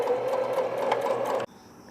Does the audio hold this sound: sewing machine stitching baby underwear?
yes